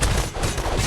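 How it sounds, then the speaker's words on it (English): In the Castle Crashers video game, a dense run of weapons hits flesh with loud, crunchy, overlapping impacts that form a continuous wall of combat noise with almost no gaps. "the constant sound of weapons connecting with flesh"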